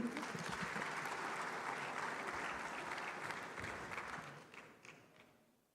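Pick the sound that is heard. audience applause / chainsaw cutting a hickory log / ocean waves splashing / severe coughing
audience applause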